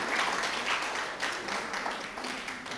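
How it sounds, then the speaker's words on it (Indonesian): A church congregation applauds the band and drummer during a worship service, steady dense clapping from many hands filling the whole stretch at moderate volume. "Kita kasih tepuk tangan dulu lah."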